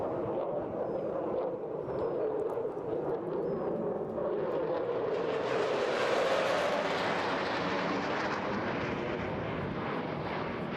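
A jet aircraft pulls tight, high-G manoeuvres at the Eastbourne International Airshow, heard as a continuous distant roar that swells and shifts in pitch as it passes, steady throughout.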